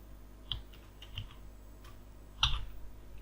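Someone types on a computer keyboard at close range, producing scattered key taps with small bursts and a louder cluster near the end, with no talking.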